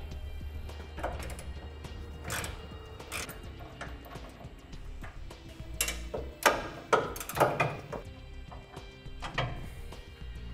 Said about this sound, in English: we'll find two 21 millimeter bolts that we need to remove